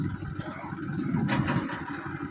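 A farm tractor's engine runs at slow RPM while being shifted into high gear, giving a low, clattering mechanical rumble that stays fairly steady and close, with no speech.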